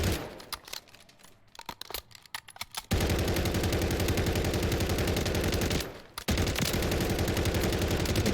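Akimbo WSP Swarm submachine guns blazing in Call of Duty: MW3, loud continuous rapid-fire bursts that run for several seconds, briefly cut off, then resume, preceded by a few short choppy shots.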